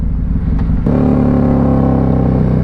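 A 2020 Harley-Davidson Road Glide Special with an aftermarket air cleaner and Reinhardt exhaust rumbles nearby, then jumps in loudness about a second in as the throttle opens into a fuller, steady roar.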